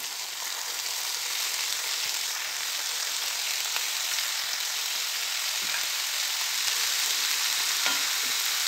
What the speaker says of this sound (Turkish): Şimdi pırasalarımızı da hemen tenceremize alalım.